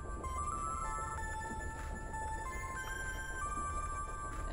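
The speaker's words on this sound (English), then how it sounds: "Oh, someone answer that bloody phone." An old cell phone ringing in The Charnel House Trilogy video game, a faint electronic warbling ringtone of repeated short tonal bursts over a steady background hum.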